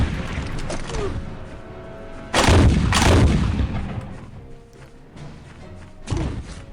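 Gunfire in the Civil War video game Gods and Generals: loud, dense volleys of shots and booming reports roll over a constant din, with a voice talking faintly in the background.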